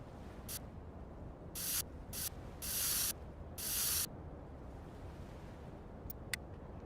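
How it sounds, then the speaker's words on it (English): Spray painting in the video game Schedule I: several short bursts of spray-can hiss, two of them held for about a second, separated by pauses over a low steady background, then a couple of faint clicks. "And that's all spray paint I have for right now."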